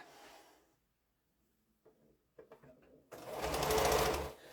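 A sewing machine stitching quilt blocks together, starting with a few short clicks and taps before running in a steady close whir toward the end.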